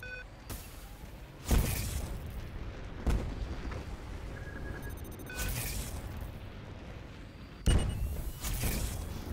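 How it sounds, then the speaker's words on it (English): Spaceship explosions in the space combat game Star Conflict during a PvP team battle: several loud booming blasts spread through the scene, each a sharp burst trailing into rumble, over a steady background of engine hum and effects. "Enemy ship destroyed."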